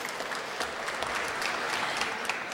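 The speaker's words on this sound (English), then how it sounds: "let's clap for that." Steady applause from an audience, dense continuous clapping at a moderate distance with no voices standing out.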